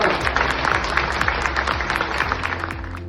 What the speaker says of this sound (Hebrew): אז אני מבקש רגע דקה של מחיאות כפיים לכבוד ליזי אורון